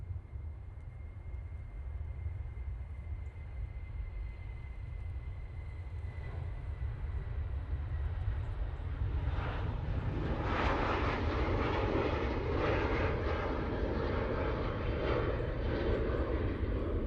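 A Jet2 Airbus A350 at Manchester Airport roars down the runway on its takeoff roll, a broad heavy engine rumble heard from a distance that swells louder and rougher partway through.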